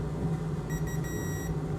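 A multimeter in continuity mode gives a steady electronic beep while probing a pad on an iPad 9.7" 2017 logic board. The tone lasts under a second and is broken by brief gaps, set over a low background hum.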